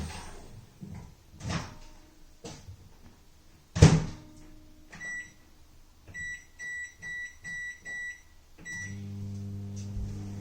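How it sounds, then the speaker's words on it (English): A microwave oven door shuts, a few keypad beeps sound, and the oven starts up with a steady low hum, heard close and clear in a kitchen while some food is being heated. "I'm gonna put this in the microwave for 8 minutes."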